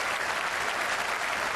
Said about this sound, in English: A little clap there for Flintoff from Warne